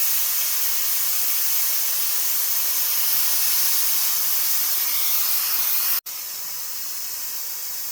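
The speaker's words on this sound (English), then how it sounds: "I've been releasing the steam for a couple minutes, and as you can see, it's still got plenty of pressure left in it." Steady, loud hiss of steam venting from an Instant Pot electric pressure cooker during pressure release after cooking Zuppa Toscana soup, continuous and close, with a brief dropout near the end before the hiss resumes.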